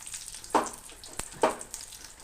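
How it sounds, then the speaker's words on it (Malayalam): Dried red chillies frying in coconut oil in a pan, a soft, continuous sizzle with a couple of brighter crackling bursts, quiet and close. "ഉണക്കമുളക് ഇട്ടിട്ടുണ്ട്. അതൊന്ന് വറുത്തെടുക്കട്ടെ."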